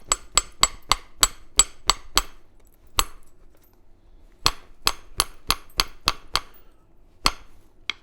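Sharp, clicky strikes from trimming a rainbow obsidian flake while flintknapping, landing in quick rhythmic bursts of about seven hits, then a lone tap, then another run of seven or eight, close and crisp with no talk.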